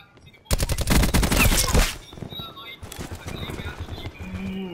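Rapid automatic gunfire bursts loudly for about a second and a half in Call of Duty Black Ops multiplayer, then gives way to quieter game ambience with scattered effects and chirps.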